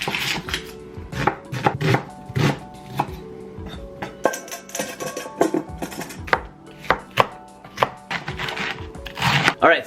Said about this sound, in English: you guys saw me chopping up this huge pile of bok choy